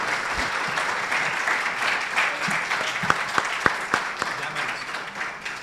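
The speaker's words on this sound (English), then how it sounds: "A round of applause, please." An audience applauds the judges at an event, steady clapping with a few sharp individual claps standing out near the end, with some voices mixed in.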